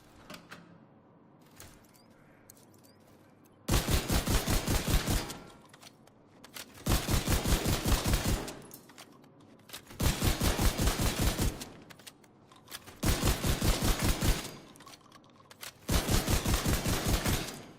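Sustained automatic gunfire in the video game Tom Clancy's The Division, five loud, rapid bursts of roughly one to two seconds each, separated by short pauses, with no talk over them.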